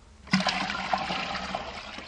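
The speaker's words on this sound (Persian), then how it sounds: "آب میریزیم" Water is poured into a pesticide mixture being prepared for a sprayer, a sudden splash followed by a continuous close rushing and trickling pour that stays steady to the end.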